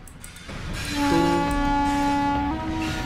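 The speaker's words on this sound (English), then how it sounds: "Eh, may train na, ano?" A train horn blares in a horror video game, a loud sustained multi-tone blast over the rumble of a passing train, close and alone with no talk.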